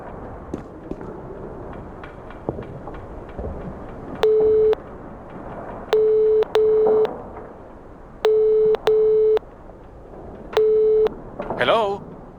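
Telephone tones from a reception desk phone in the point-and-click game NiBiRu: Age of Secrets: five evenly pitched ringback beeps, some paired, sound clearly over a quiet ambient background with faint taps.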